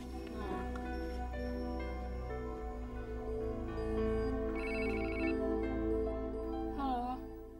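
A telephone rings in an Indonesian television drama scene at night, its repeated electronic ringtone sounding through continuous background music.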